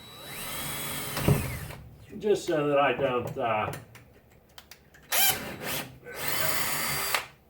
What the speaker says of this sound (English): I'm going to pre-drill a hole right here